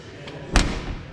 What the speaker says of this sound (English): That door shut there.